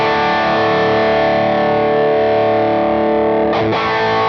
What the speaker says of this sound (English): Let's go, I don't know, Rocker 83 Edge. So this is a slightly darker pedal.